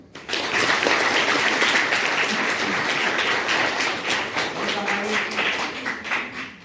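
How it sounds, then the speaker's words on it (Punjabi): An audience at a women's ITI gathering in Nawanshahr claps together, a dense, sustained wash of many hands that stays loud for several seconds before tapering slightly. "ਇੱਕ ਵਾਰੀ ਉਹਦੇ ਨਾਲ ਹੀ ਤਾੜੀ ਮਾਰੋ"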